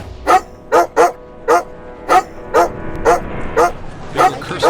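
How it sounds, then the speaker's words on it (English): A frightened dog barks and yelps frantically, about ten sharp, evenly spaced cries that come close and loud, one after another. "It was a frightened dog, frantically yelping."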